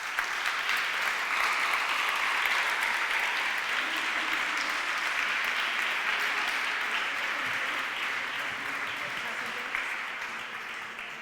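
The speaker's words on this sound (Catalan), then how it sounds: "Un fort aplaudiment, sisplau." Sustained audience applause at a rural women artists' presentation in la Vall d'Albaida, a thick, continuous roar of clapping that holds steady for several seconds and tapers slightly toward the end.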